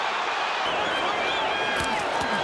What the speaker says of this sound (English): The crowd going nuts here, seeing Foreman score